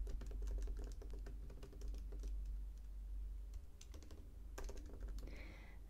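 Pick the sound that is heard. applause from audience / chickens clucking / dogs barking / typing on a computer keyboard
typing on a computer keyboard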